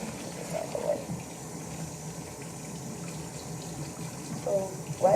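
A tap running steadily into a sink for handwashing, a constant close hiss of flowing water with faint brief voice sounds near the start and end.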